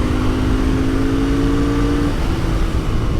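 Royal Enfield Interceptor 650 motorcycle pulling hard at wide-open throttle, a loud, steady engine drone with a rising harmonic whine that holds for about two seconds before easing, all under heavy wind rush.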